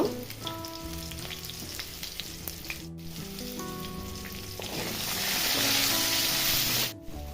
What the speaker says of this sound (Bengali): এবারে আলুর মধ্যে দিয়ে দিচ্ছি সেদ্ধ করে রাখা কলাগুলো এবার পরিমাণ মতো হলুদ আর লবণ দিয়ে কলাগুলো আলুর সাথে ভালো করে ভেজে নেব